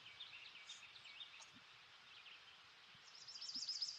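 Birds singing outdoors, faint chirps and tweets scattered through the clip that grow a little busier toward the end, with no talking.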